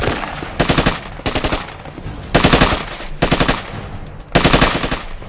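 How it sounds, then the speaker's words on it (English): Loud bursts of machine-gun fire, about five rapid rattling volleys separated by short pauses. "From the heavy sounds of gunfire"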